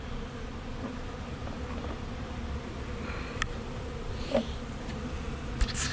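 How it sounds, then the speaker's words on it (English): A swarm of bees hums steadily in a bee yard, a dense, continuous buzz with a few louder individual bees passing close to the microphone. "it'll be another swarm of bees that we'll have there in the bee yard"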